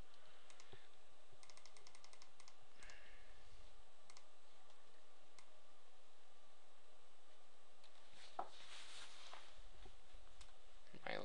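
Sharp mouse clicks on a desktop computer during Excel work, scattered and close, a few isolated ticks plus a quick double click near the end, mixed with light keyboard tapping over a soft background hiss.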